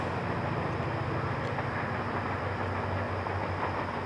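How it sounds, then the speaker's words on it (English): A VIA Rail passenger train rumbles past with a dense, continuous roar and faint rail clatter, loud and close, steady from start to finish with no voices. "88 is the first train of the night because 87's been delayed"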